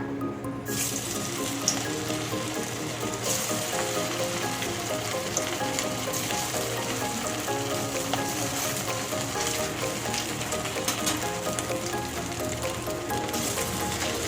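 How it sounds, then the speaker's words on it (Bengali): Soybean muitha dumplings frying in hot oil in a kadai on a gas stove: a steady, dense sizzle running unbroken throughout, with a faint tonal layer beneath and no talking. "এবার আমি মুঠাগুলো ভেজে নেব।"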